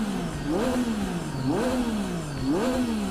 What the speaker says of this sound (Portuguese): você já deve conhecer o som dos motores 3 cilindros como esse